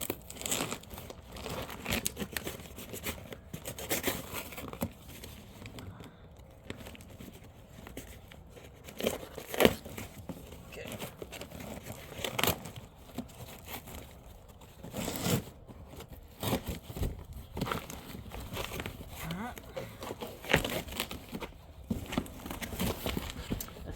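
Cutting open and unpacking a shipped bamboo plant from a licensed nursery: continuous crinkling, tearing and scraping of packaging material, with irregular louder rustles and bumps throughout, close by and moderately quiet.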